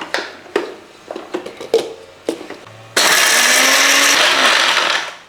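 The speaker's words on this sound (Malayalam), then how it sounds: "ഇനി ഇതെല്ലാം കൂടെ നമുക്കൊന്നുകൂടെ ഒന്ന് പൊടിച്ചെടുക്കാം." A kitchen blender grinds cardamom and cumin for a Kerala-style evening snack: a few light taps and clatters, then a loud, steady high-pitched whir that runs for about two seconds before cutting off.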